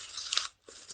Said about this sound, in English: we're hearing those crunchy leaves again